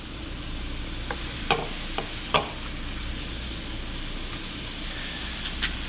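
Fish fillets frying in butter in a pan, a steady moderate sizzle with a few sharp utensil clicks and taps scattered through, close and without talk.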